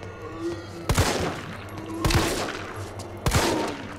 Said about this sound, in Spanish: 4 tiros a la cabeza, 4 tiros